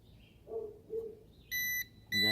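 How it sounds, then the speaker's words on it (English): A Ruko F11 Pro drone controller sounds two loud, steady electronic beeps in a row while it connects, after a few softer low taps and bumps. "And you hear it beeping until it connects."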